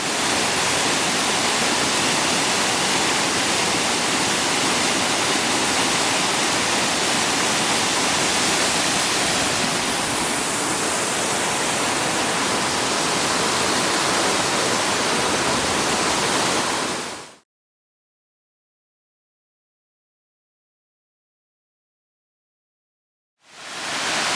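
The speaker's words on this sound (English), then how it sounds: "it is a gorgeous waterfall" Gogandara Falls, a waterfall on the Coomera Circuit in Queensland, roaring as a steady loud rush of falling water that fills the scene for about seventeen seconds, then cuts to silence before returning briefly at the end.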